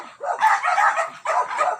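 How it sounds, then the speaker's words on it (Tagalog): Several dogs bark in rapid overlapping yaps, two clustered bursts of sharp, fairly close barking with brief gaps between them and no other voices. "Ingay ng mga aso"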